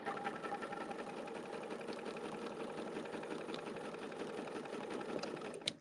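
A sewing machine quilts a set of butterfly wings on a garden-themed quilt, running in one steady, close, rapid stitching whir for nearly six seconds before stopping abruptly, with no talk.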